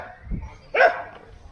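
At a train station in Matanzas, Cuba, a dog lets out a single sharp, close bark after a faint low thump, with quiet surroundings otherwise.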